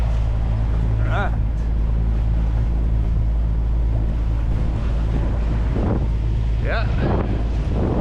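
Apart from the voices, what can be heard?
wind blowing on a sailboat at sea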